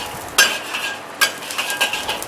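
Ginger slices and white scallion sections stir-frying in vegetable oil in a wok, a soft steady sizzle punctuated by several sharp metallic scrapes of a spatula, close and with no talk.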